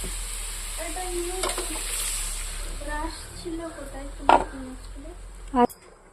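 Cabbage and small shrimp frying in a pan as water is added, a soft sizzle and stirring scrapes under someone speaking, with a couple of sharp utensil knocks near the end.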